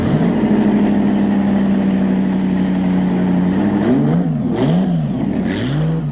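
A vintage Auto Union Silver Arrows race car engine revs hard with rising and falling pitch, misfiring less as it frees up, a steady drone giving way to repeated throttle blips, loud and close.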